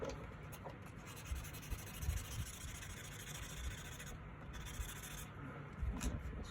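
A rusty Schrade pocket knife blade is hand sanded on a clean 1500 whetstone, giving a steady close rubbing and scraping texture that runs continuously, with slight swells in intensity.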